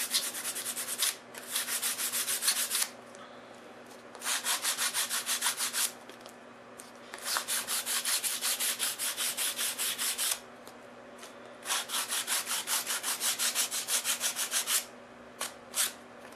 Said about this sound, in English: I just rub it very gently, very, very lightly over the entire surface, and that takes off any of these little lumps of wax.